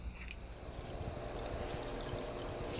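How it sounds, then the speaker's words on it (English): Dissolved red slime remover solution poured from a jug into a brackish aquarium tank, a steady splashing trickle of liquid that grows fuller and louder and stays continuous, close by. "We simply pour the jug in, and you can see it's really yellow and strange looking."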